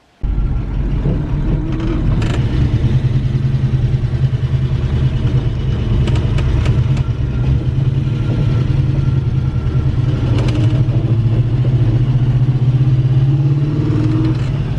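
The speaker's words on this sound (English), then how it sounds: "I'm going to get the car warmed up, grab Nat, and we're going to go for a rip." A car with a hand-fabricated transmission crossmember warms up on a frosty morning, its engine running loud and close in a steady, even drone with slight rises in pitch and no talking.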